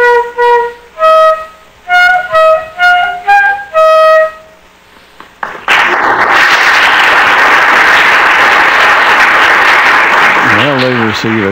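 An enthusiastic audience at a church Christmas program claps loudly and steadily for young performers aged ten and eleven, sustained dense applause that follows a short stretch of sung or played notes.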